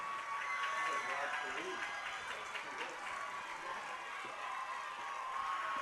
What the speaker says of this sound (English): Ozark crowd comes to their feet.